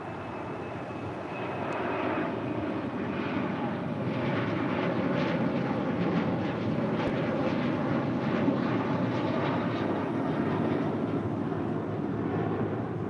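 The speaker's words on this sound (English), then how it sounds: "Air Transat flight 241 is A321 heading to Montreal." Air Transat Airbus A321 jet bound for Montreal, heard from LAX as a broad sustained engine roar that swells after a quieter start and holds steady at moderate distance.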